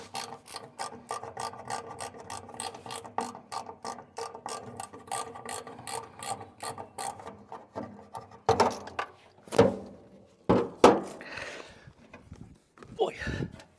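A ratchet works on a seized Scout 800 Aristocrat engine to turn it over. Quick regular pawl clicks run for several seconds, then give way to heavier, uneven clunks and strained pulls, with a voice heard near the end.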